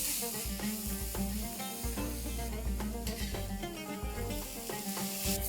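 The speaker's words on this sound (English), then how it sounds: "which I'm going to saute till they're nice golden brown" Onions sautéing in a pan toward golden brown, a soft sizzle beneath repeated stirring and scraping strokes with a spoon, close and rhythmic, with no talk.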